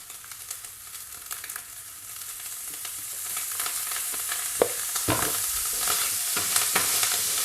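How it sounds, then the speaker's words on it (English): Bacon frying in olive oil alongside pasta in a pan, stirred now and then: a steady broadband sizzle with scattered scraping clicks and a few louder utensil knocks near the end, close and fairly loud, no voices. "that is the pasta and the bacon cooking away"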